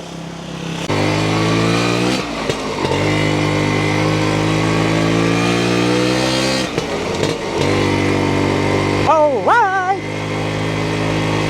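1991 Kawasaki two-stroke motorcycle engine running close by, a steady buzzing drone with revs rising and falling, and a voice speaking over it near the end.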